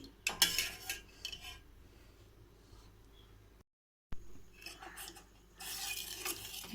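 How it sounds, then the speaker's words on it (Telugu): Milk for homemade junnu stirred in a pot on the stove, a spoon scraping and clinking against the metal sides at close range, fairly quiet, with a brief silent gap partway through. "ఇలా కలుపుతూనే ఉండాలి, లేకపోతే అడుగు అంటేస్తుంది."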